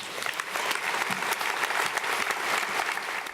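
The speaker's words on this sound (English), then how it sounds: "Let's have a round of applause for our winners." Audience applauding award winners at an innovation awards event, a dense sustained round of clapping from a large crowd, loud and continuous with no speech over it.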